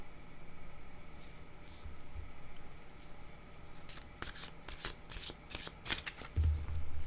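Tarot cards riffled and shuffled by hand, a soft steady papery rustle that turns into sharper, louder snaps and slaps toward the end as cards are drawn and laid down, close and with no voices.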